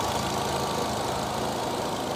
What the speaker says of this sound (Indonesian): Suara mesinnya masih halus.